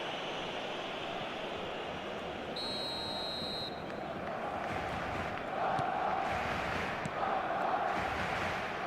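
Stadium crowd noise in eFootball, a continuous murmuring roar that swells slightly toward the end, with a brief whistle-like tone early on and commentary voices talking over it.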